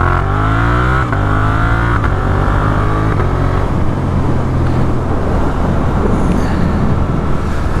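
A Suzuki GSX-8S motorcycle fitted with a new exhaust pulls hard from close by, its engine note climbing through rising revs before settling into a loud, steady drone with wind rush.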